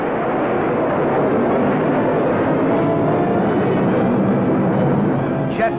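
Steady broadband roar of early jet aircraft in flight from a postwar film era, a continuous loud rushing drone without pauses or voices.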